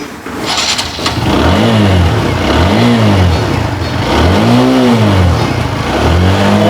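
A used motorcycle with about 14,440 km on an untouched engine is revved in close, loud repeated swells of rising and falling pitch, with no talk over it.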